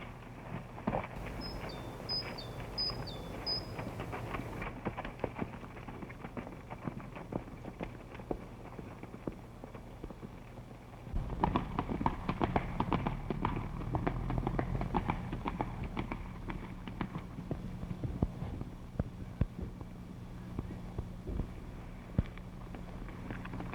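Horse hooves clip-clop in an irregular stream of sharp thuds, softer at first and then louder and denser, as in a 1935 Mountie western, over a low rumble with faint chirps early on.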